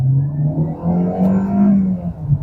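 A 2025 Hyundai Elantra GL in manual mode pulls away in first gear, its engine note climbing in a loud, close, steady hum.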